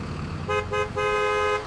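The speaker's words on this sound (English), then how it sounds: "The horn on the bus goes beep, beep, beep" Cartoon bus horn honking three times in a row, short bright tonal beeps with the third held longer, loud and close over a faint background bed.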